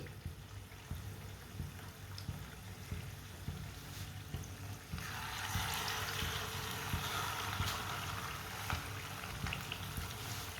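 Chicken kebabs go into hot oil in a pan, and a steady bubbling sizzle swells louder about halfway through as they are added one by one, close and continuous with no talking.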